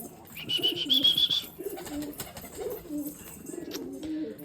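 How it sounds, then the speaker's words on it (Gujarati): Several pigeons coo softly in repeated low throaty phrases, with a brief high chirping sound early on, close and fairly quiet. "ये है हमारे पिजियंस"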